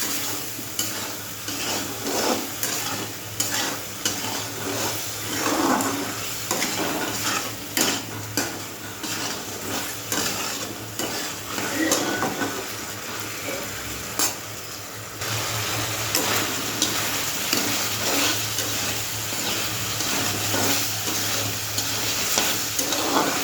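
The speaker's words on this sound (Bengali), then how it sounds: "চিংড়ি মাছটা দিয়েই কচুর তরকারিটা করবো" Taro curry with fried shrimp stir-fried in a pan: a steady, loud sizzle of frying beneath repeated scraping and clinking of a utensil against the pan, with no talking.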